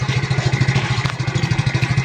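Motorcycle carrying a load of coconuts, its engine putting out a steady rapid mid-pitched pulsing with some rattling clatter as it rides along, no talk.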